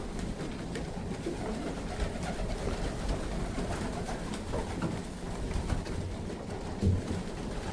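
Pigeons coo softly amid a steady rustling background, their low calls blending into a continuous murmur.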